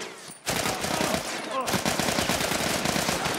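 Soldiers in The Last of Us pour gunfire in dense machine-gun bursts, loud and close, with a sudden silent gap before the volley resumes and continues steadily to the end.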